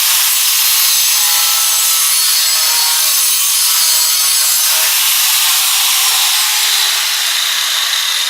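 Steady, loud rasping of a blade cutting through a fiberglass composite truck body panel, a continuous abrasive hiss with no voices.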